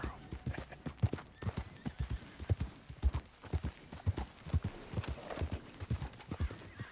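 Horse hooves clip-clopping in the video game Red Dead Redemption 2, a steady rhythmic series of close, distinct hoofbeats at a walking or trotting pace, with a brief whinny amid the game sounds.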